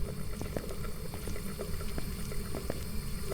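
Running water from a bathroom tap in the Phasmophobia video game is a steady hissing splash with small scattered clicks and drips, moderately loud and continuous with no voices.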